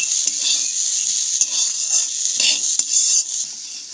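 Lotus seeds sizzle steadily in a hot pan, with a few sharp scrapes and knocks as a spatula stirs them, close and fairly loud throughout.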